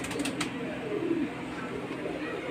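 Soft low cooing of Indian Lakha pigeons, a pair for sale in Lahore, against a steady background hum, with a brief rustle near the start.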